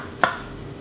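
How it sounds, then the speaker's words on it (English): A knife makes a single crisp slicing cut through cucumber on a cutting board, one short sharp stroke close by in a quiet kitchen. "Cucumber, just a little bit, and thinly sliced."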